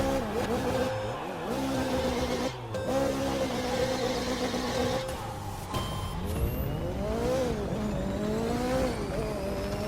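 First-generation Mazda MX-5 racing in The Crew 2 on a US Speed Tour West stage from Las Vegas through Nevada, its engine revving and shifting continuously with rising pitch sweeps and tire noise, loud throughout, with a voice talking over it at times.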